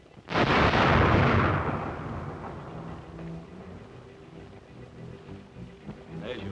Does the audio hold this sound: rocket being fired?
yes